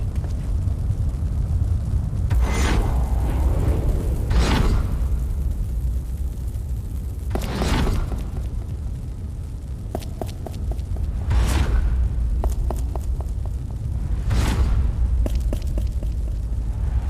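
A big bomb blows up in the video game Final Fantasy XIV, with several loud booming bursts and whooshes spread over a dense, continuous backdrop of game sound.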